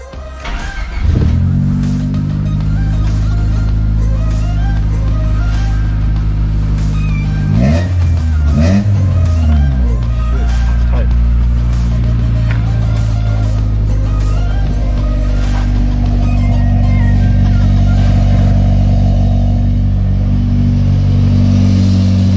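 Honda car engine running through a new full aftermarket exhaust, a loud steady idle with strong low rumble, revved briefly midway before settling back to a constant drone, no talking.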